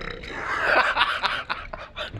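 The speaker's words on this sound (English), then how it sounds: "What kind of belch is that?" A person lets out a loud, drawn-out belch lasting about two seconds at a card game table. The belch is rough and close, with a faint chuckle near the end.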